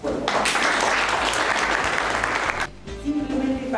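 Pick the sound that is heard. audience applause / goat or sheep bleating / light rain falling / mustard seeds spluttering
audience applause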